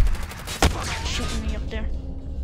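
Gunfire in the video game Call of Duty MW: a sharp loud shot stands out amid a dense, continuous game soundscape with rumbling bursts and a rising whine, close and busy throughout.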